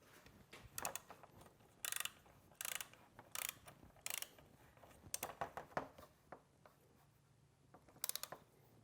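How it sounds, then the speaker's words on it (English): A torque wrench ratchets on the bottom bolts of an oil cooler on a 6.0 engine, with bursts of quick clicking strokes repeated about a dozen times, close and crisp in a quiet space. "you're going to want to torque the bottom bolts to 16 foot-pounds"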